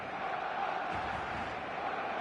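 A football stadium crowd in a video game roars steadily and loudly as the teams prepare for the match, a dense wash of massed voices holding at a constant level for the whole stretch.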